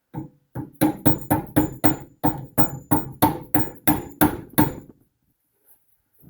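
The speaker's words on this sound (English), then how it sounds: "Take our plastic hammer." A plastic hammer taps a washer into a Mustang II front suspension A-arm steadily about a dozen times in an even rhythm, crisp and close, then stops, leaving quiet.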